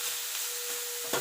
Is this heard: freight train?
no